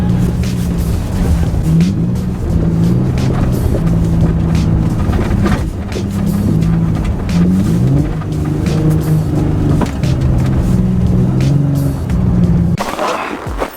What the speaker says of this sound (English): I would just highly recommend just sliding the car just like this, having fun with it.